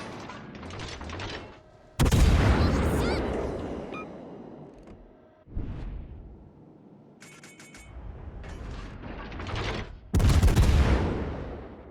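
The battleship Montana fires its guns in World of Warships: Legends, heavy booming salvos that hit in several loud bursts and decay into rumble, separated by quieter mechanical clanks and ratcheting sounds.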